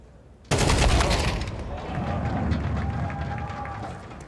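P250 pistol gunfire in a Counter-Strike match, a sudden loud burst of shots followed by a sustained noisy wash of game sounds and crowd.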